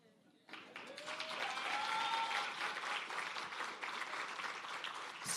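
Audience applause at an export academy launch event: a faint room, then sustained clapping from a crowd that starts abruptly and continues steadily to the end, with a few faint voices underneath.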